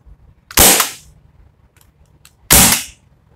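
Air pistol dry-fired with no pellet loaded, giving two sharp, loud, close snapping cracks about two seconds apart, each trailing off quickly, with no talking.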